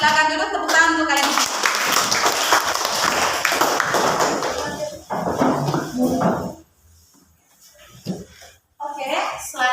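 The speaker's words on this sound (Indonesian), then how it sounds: "Terima kasih Nadira, silakan dulu tepuk tangan untuk kalian." Students in a classroom applaud for several seconds, a busy clatter of many clapping hands. The clapping then breaks off and a voice speaks over quieter gaps.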